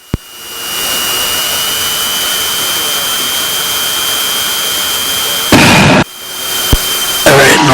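Cessna 340 twin piston engines at a steady, loud run-up drone, with a brief louder surge and a short thump partway through, heard close from inside the cockpit.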